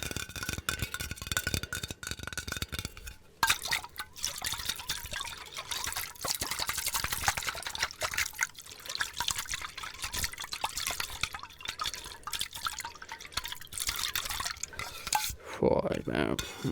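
Water poured into a cup up close, with a continuous trickling and splashing stream and scattered drips and clinks of the vessel throughout.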